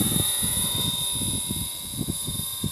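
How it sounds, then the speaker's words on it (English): Rapid pulsing rotor chop of a small BoT 550e electric radio-controlled helicopter flying at high head speed, with a high-pitched motor whine, steady and fairly close. "that's the high head speed that we've got programmed in this helicopter, but it's flying nicely"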